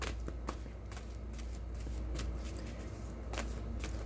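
Tarot cards being shuffled for a love reading, a steady papery riffle with sharp snaps where the deck is cut, close up and continuous for several seconds with no talking.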